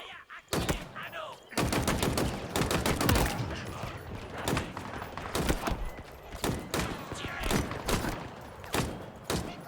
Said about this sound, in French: Des balles d'exécuteur.